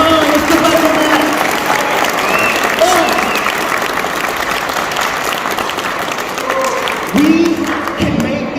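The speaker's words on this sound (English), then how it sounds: "So give yourself a round of applause" A crowd at a Disability Rights Awareness Day event in the State Capitol claps in sustained applause, loud and continuous, with some cheers and voices rising through it.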